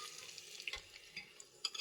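Salted dried fish (shutki) fries in oil in a home kitchen, giving a low, steady sizzle with a few soft clinks and stirring scrapes, fairly quiet throughout.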